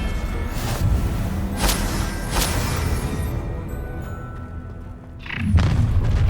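Spell blasts and explosions from combat in the Hogwarts Legacy video game, with a steady rumbling bed of booming impacts, a few sharp bursts standing out, and a heavy thud near the end.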